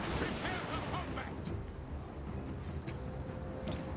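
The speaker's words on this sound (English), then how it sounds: "My cannon still firing." Cannon fire in a Total War: Warhammer 3v3 battle: a dense wash of battlefield noise with several muffled booms and sharp reports scattered through it, steady and loud throughout.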